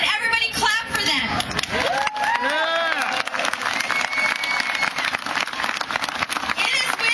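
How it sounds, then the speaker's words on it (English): A crowd at the 2010 Boston Tea Party rally claps and cheers in a sustained burst of applause, with voices mixed into the noise. "And everybody clap for them."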